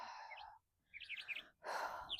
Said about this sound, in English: Oh, hello, little bird.